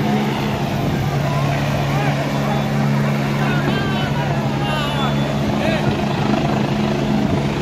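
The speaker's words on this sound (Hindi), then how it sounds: "हेलीकॉप्टर देखिए बस लैंड हो ही चुका है सामने" A helicopter lands at a school ground, its engine and rotor making a loud, steady drone with a constant low hum throughout, while someone talks over it.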